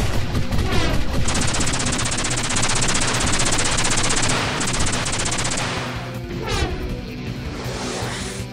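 Rapid, sustained machine-gun-style gunfire from a cartoon robot battle scene, dense and loud for several seconds with crashing impacts, no speech.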